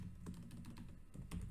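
A few quick keystrokes on a computer keyboard, faint and close, tapped in a short irregular burst with no one speaking.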